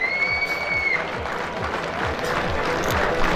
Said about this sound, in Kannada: ಗಡಸಿಕ್ಕುವ ಜೋರು ಚಪ್ಪಾಳೆ